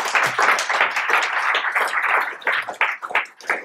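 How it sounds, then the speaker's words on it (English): Conference audience applauding after a talk on server-side Swift, a dense, steady wash of many hands clapping that carries on throughout and thins slightly near the end. "a round of applause again"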